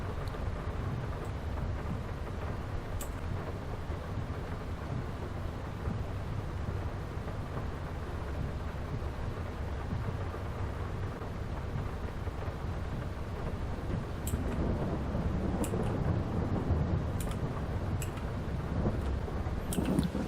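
Rain and thunder in Farming Simulator 22, a continuous low rumbling wash of rainfall with deep thunder-like roar, building louder near the end, with no talking.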